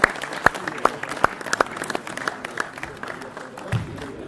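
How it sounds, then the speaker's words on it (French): An audience claps briefly after a youth basketball coaching demonstration at a clinic, a scattered burst of sharp individual claps that thins out over a few seconds. "on peut les applaudir."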